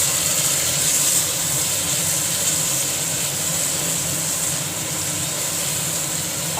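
Mutton fries in a pan with Kashmiri red chili powder, turmeric, coriander and cumin powder for biryani, giving a steady, loud, even hiss of sizzling oil that runs throughout with no voices.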